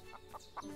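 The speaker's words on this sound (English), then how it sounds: "There's a chicken there." A chicken in the farming life-sim game Everdream Valley gives three short clucks, evenly spaced and fairly quiet, over a faint steady game background.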